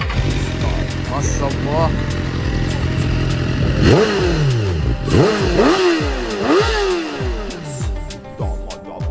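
A BMW S1000RR sport motorcycle engine revs hard in a series of sharp, rising bursts, loud and close after an idling start, while people talk nearby.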